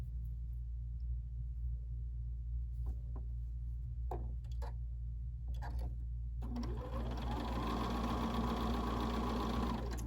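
A sewing machine chain-stitches quilt pieces in a steady, even mechanical hum, joined by a few soft clicks and handling taps before the motor runs faster and fuller toward the end.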